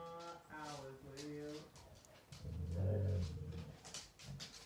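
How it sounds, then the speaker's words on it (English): A small female dog howls and whines in drawn-out, wavering tones, fairly close, alternating with a person's voice and some low rumbling vocalizing; speech is present in the clip alongside the dog. "Don't you dare howl at my singing, little girl."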